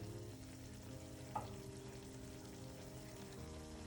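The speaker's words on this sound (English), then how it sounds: "So you want this to fry until golden brown." Jamaican banana fritters fry in hot oil with a faint, steady sizzle and a single small pop partway through.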